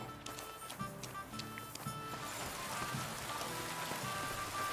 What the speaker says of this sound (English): I love it when it rains in the game, and honestly in every single game.